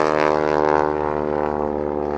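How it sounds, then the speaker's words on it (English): A loud propeller airplane drones steadily overhead outdoors, its engine tone strong and continuous with a slight pulsing throb throughout, no voices present. "That was a loud plane."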